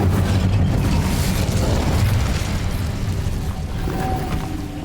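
Incendio fire spell cast in the video game Hogwarts Legacy, a loud, continuous roaring whoosh of flame with deep rumble that fades slightly toward the end.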